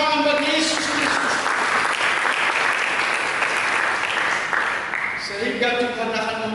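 A church congregation at a sermon applauds for Jesus Christ with loud, dense clapping that fills the room for several seconds. A preacher's voice is heard at the start and again as the clapping eases off.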